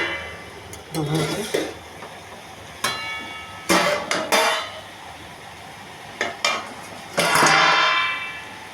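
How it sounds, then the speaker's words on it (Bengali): A metal lid comes off a cooking pot of vegetables, potato and ash gourd, with a few clanks and scrapes against the rim amid kitchen clatter, someone talking at intervals. "ঢাকনাটা এখন খুলে দেবো"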